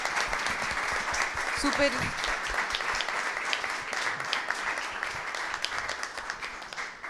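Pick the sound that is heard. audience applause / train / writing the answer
audience applause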